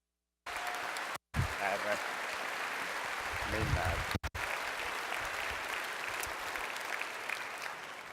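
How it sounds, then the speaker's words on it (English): Steady applause fills the hall at a University of Waterloo convocation ceremony, a dense, continuous round of clapping from a large audience, briefly cut by two short dropouts. "Let's give him a nice round of applause."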